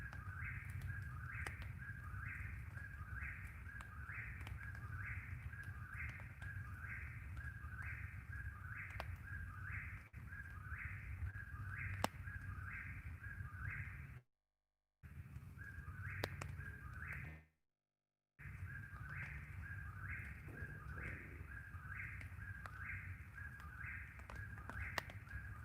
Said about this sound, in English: Whippoorwill, whippoorwill, whippoorwill. For such a tiny bird,